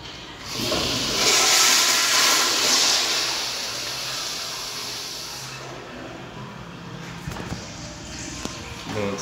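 A 2003 American Standard Afwall 1.6 gpf wall-hung toilet in a San Jose shopping-mall restroom flushes with a loud close rushing hiss that fades into a long, quieter flow of water, with faint clunks near the end.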